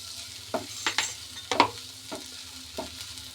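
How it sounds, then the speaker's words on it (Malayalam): Turmeric is stirred into a masala frying in a pan for aloo paratha, with a low faint sizzle under a handful of scraping spoon strokes spaced irregularly across a few seconds. "നല്ലോണം ഇളക്കി യോജിപ്പിക്കാം."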